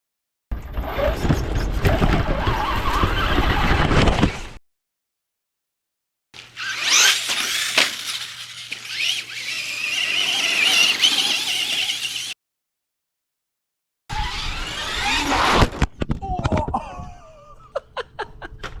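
A truck crashing in a driving video game: loud, dense bursts of engine roar, squealing and impacts come in three separate stretches, split by sudden silent gaps, with no talking.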